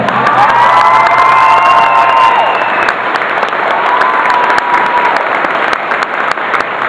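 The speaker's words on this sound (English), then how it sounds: "A huge round of applause for both Doctor Who and Colin Baker." A large crowd at a Doctor Who fan event claps and cheers loudly for actor Colin Baker, with whoops and shouts over sustained applause that stays strong throughout.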